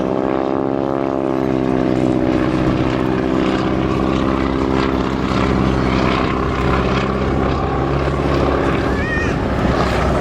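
A propeller aircraft flying a display at Sywell Airshow, its engine a loud sustained drone with shifting pitch as it passes, close and dominant, with a voice faintly speaking underneath.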